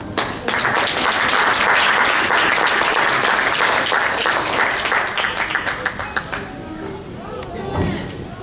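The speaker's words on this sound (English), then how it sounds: "So big round of applause." Concert audience applause, dense clapping that fills the space loudly for about six seconds before thinning into scattered claps and cheers.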